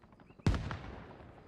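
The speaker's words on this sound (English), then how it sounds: "Why is there grenades coming over this way" A single sudden grenade blast in the military shooter Arma Reforger, a loud close burst with a rumbling tail that fades over about a second, alone against quiet background noise.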